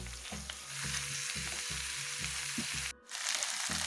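Potatoes and whole garlic cloves fry in a pan for a local chicken curry, a steady loud sizzle broken by regular scraping stir strokes about twice a second, then a brief pause near the end.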